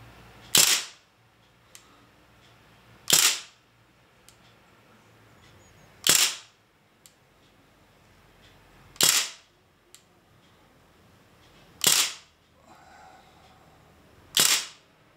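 Six single gunshots fired over a ballistic chronograph, each a sharp loud crack spaced about three seconds apart, with quiet background between shots.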